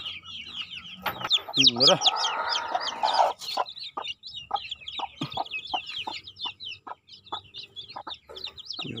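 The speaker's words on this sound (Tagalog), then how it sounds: "Dagdag na to sa mga manok natin." Chickens cluck and chatter in a busy flock nearby, with sharp repeated calls and a brief spoken word in the middle.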